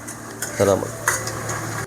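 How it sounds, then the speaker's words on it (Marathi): Chopped onion tempering stirred and frying in hot oil in a pan at home, with steady sizzle and a few scraping stirs of a spoon against the metal, close and fairly loud throughout. "चला मस्त फोडणी लागली कांद्याची आणि मस्त मॅश करून घेतलेली आहे."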